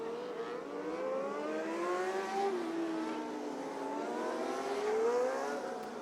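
Restricted-class race cars at Delta Speedway restarting, a sustained engine whine with rising and falling pitch as several cars accelerate around the track, moderately loud and distant.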